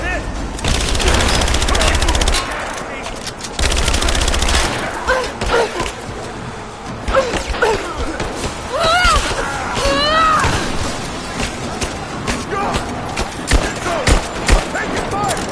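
Gunfire in Rise of the Tomb Raider on PS4, rapid shots rattling through a busy combat scene while enemy voices shout over it.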